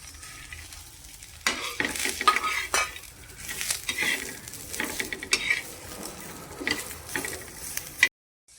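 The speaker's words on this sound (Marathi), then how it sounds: "आता हे मसाला सगळा भाजून घ्यायचा" Spice masala for a village-style Chopda fish curry is roasted in a pan, with repeated spoon scrapes and stirring clatter over a low, steady sizzle. Close and moderately loud, ending abruptly in silence, with no voices.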